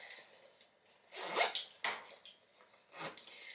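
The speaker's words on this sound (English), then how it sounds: "there's also a zipper on the back here" Bag zipper handled in a few quick rasping pulls, short scratchy bursts separated by pauses, close and fairly quiet.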